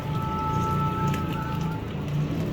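Heavy storm rain pours steadily onto a surface in a kitchen, a dense, continuous hiss with no breaks, loud and close, with no voices over it.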